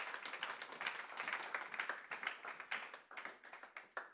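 An audience at a conference applauds, a dense, steady round of many hands clapping from a distance, carrying on for several seconds.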